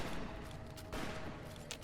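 Gunfire in the game Fallout: New Vegas: a few fairly quiet cracking shots, one sharper report standing out, over a steady background rumble.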